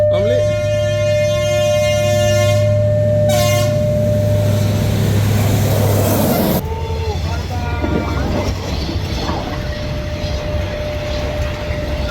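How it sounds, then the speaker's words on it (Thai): A train rumbles past close by at a level crossing with a long horn blast early on, then a steady roar of wheels on track. "ได้ยินเสียงเหมือนรถไฟมาเลยนะครับ"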